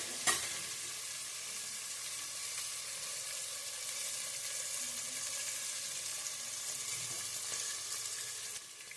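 Half an onion frying in a pan for an avarekalu pulao, a soft, steady sizzle held close throughout, with a sharp clatter at the start and another near the end, no talking.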